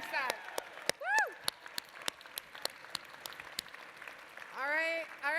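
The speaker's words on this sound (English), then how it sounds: "Let's give everybody a round of applause on that success." Scattered claps and a few high whoops rise from the audience at MICC's 20th Annual Gala, thin and uneven rather than a full roar, with a louder cheer near the end.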